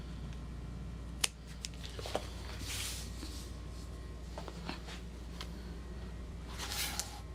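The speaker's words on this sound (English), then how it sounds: "Sometimes I'll even undercut and just come back in with scissors" Scissors trimming cork fabric while cutting a sling bag, with a few soft, close snips and crisp cutting rustles spread over a quiet background.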